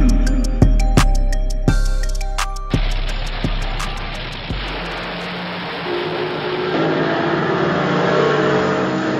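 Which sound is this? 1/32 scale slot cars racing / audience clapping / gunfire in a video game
1/32 scale slot cars racing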